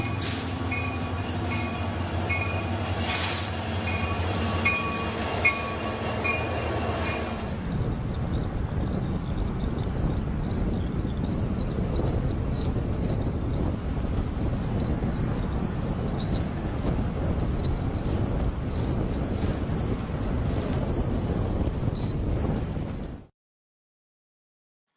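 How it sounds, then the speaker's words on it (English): A long freight train loaded with tanks rolls past nearby, a steady rumbling clatter of wagons with wind buffeting the microphone throughout, continuing until it cuts off abruptly. "So that was big train which brings tanks to Ukraine right now."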